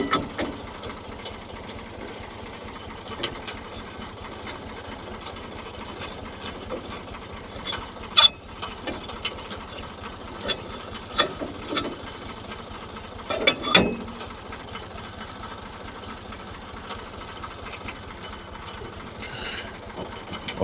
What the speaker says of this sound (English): So I have the mower out there doing this task as well.